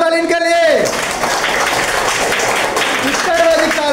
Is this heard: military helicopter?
no